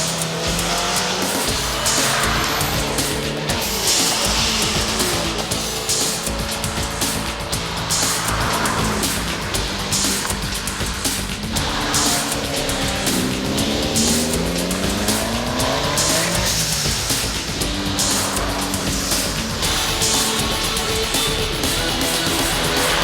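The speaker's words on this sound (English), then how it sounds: "This is a car you really could learn to drive quite hard." A rally car in the style of the Ford RS200, driven hard, its engine revving loud and continuous while the tires squeal through corners with no talk.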